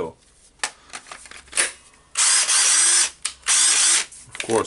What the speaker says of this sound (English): checking it on drilling mode